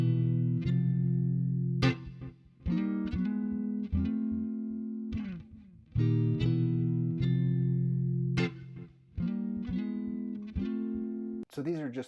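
Electric guitar plays the intro of a song, a run of sliding chords that ring loud and close with strong harmonics, then stop for a moment before the next phrase.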